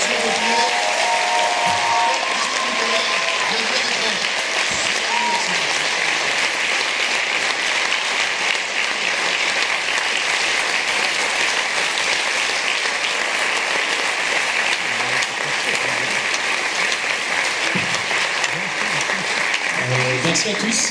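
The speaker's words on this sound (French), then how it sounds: "merci d'applaudir s'il vous plaît 3 personnes de l'équipe" A festival audience applauds the director and film team at a premiere screening, sustained loud clapping filling the hall for the whole stretch with faint voices underneath.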